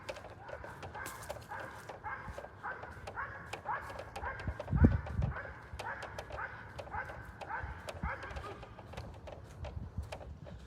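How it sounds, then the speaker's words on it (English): Outdoors by a lake, a dog barks repeatedly in quick, regular bursts at a moderate distance, with a few yips and whimpers among them, over a faint background rumble. "I recognize that bark. That's my husband's dog."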